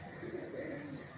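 Chapra breed pigeon giving a low, soft coo that runs steadily through the moment, close by and fairly quiet, with no talking.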